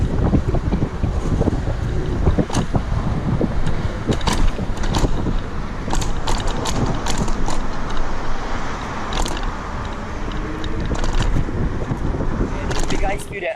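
Zebra e-bike ridden outdoors, with steady loud rushing wind noise and rattling clatter throughout, punctuated by sharp clicks and knocks from the flimsy frame.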